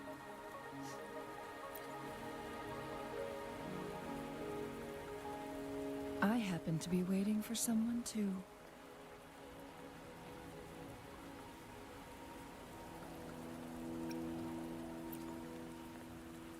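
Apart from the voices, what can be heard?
rain falling in the video game Wuthering Waves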